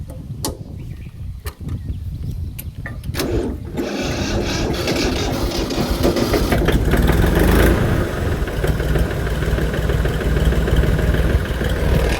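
A tractor engine runs steadily at close range, a continuous low rumble that grows fuller and louder after the first few seconds, with some faint knocks early on and no talking.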